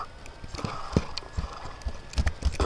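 Clip-clop of a horse trotting in the game Minecraft, an irregular run of hoof thuds with a few louder hits, close by, with no talk.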